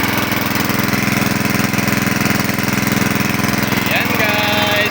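A 6.5 horsepower gasoline engine runs loud and close with a rapid, even put-put rhythm, steady throughout, with a brief voice near the end.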